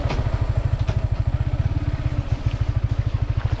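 A Yamaha XSR 155 motorcycle riding off-road on dirt, its engine thrumming in a steady fast pulsing rhythm, loud and close throughout with some rattling clatter on top.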